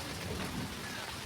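Heavy rain pours steadily on a tin roof during a village storm, with a low thunder rumble running beneath the dense hiss. It is loud and close, with no talking.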